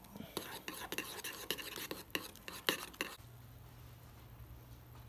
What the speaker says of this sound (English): pop it out the microwave and just keep stirring, stirring, stirring.